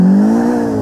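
A car engine in the video game Grand Theft Auto IV revs steadily with a rising whine, loud and close, with no voices.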